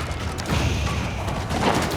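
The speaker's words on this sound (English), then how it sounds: "Main town center being worked down by the Royal cannons." Royal cannons pound a town center in a real-time strategy game, giving a dense run of low booming thuds and crashes over a steady battle din, loud and close throughout.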